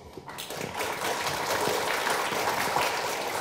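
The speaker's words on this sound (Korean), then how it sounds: "박수 많이 나와서 좋네요" An audience at a discussion forum breaks into dense, sustained applause that swells after a brief start and keeps a full, even roar of many hands clapping.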